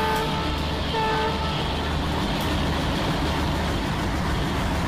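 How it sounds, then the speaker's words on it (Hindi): An Alco diesel locomotive hauling the Maitree Express during shunting in Kolkata sounds steady and loud, with dense engine rumble and a faint horn tone running through it, heard close with no talk. "हॉर्न बजा देता हूं मैं।"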